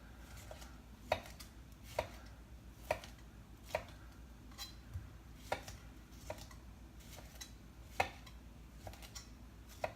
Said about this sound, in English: So we're just slicing the tomato.